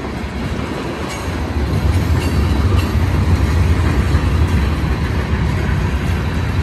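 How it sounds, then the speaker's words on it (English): A loud BNSF manifest freight train with coil cars and scrap metal gondolas rumbles steadily past nearby, a continuous heavy roar with faint rhythmic clatter of wheels, no voices. "Nice manifest train."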